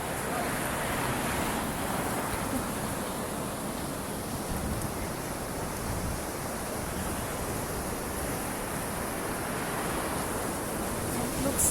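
Ocean waves at high tide wash steadily along a Gold Coast, Australia beach, a continuous broad roar of surf close by, mixed with wind buffeting the microphone.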